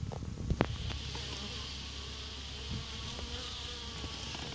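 Bees at a top bar hive hum steadily and close by, a dense swarm drone with a few louder buzzes as single insects pass near, and no voices.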